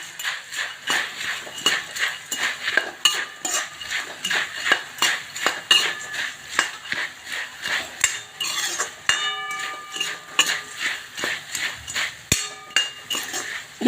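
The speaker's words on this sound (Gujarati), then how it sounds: "હવે આપણે મસાલા નાખી દઈશું સાથે મમરા નાખી દઈશું મિક્સ કરી દેશું" Puffed rice and spices being tossed in a pan, with a quick, regular series of sharp metallic clinks and scrapes of a spoon against the pan, loud and close.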